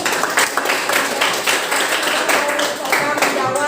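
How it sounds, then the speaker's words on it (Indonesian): A class of students claps together in an Indonesian school lesson, the sound dense and steady throughout, with voices chattering underneath. "Kasih tepuk tangan ini."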